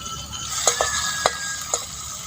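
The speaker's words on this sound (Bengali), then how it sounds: "মশলাটা পুরো জল দিয়ে গুলে নিলাম।" Ground coriander, chili, cumin and turmeric are stirred with water in a bowl, giving a low wet swishing with a few light clinks of the spoon against the bowl's side.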